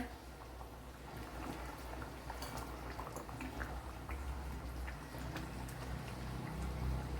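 A pan of pumpkin masala curry bubbles and simmers with a steady low burble and small pops, heard close and continuous.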